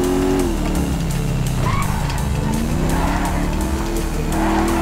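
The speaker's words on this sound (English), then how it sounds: "That's a monster fucking bike you riding" A powerful 140-cubic-inch motorcycle in GTA V roars away at full throttle, its engine note rising and shifting with gear changes and tire squeal, loud and continuous throughout.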